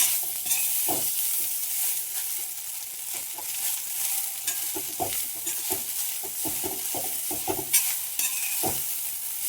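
Cooked rice is stirred into puliyogare spice mix in a pan with the gas turned off. A spoon scrapes and turns it in repeated soft strokes over a faint lingering hiss.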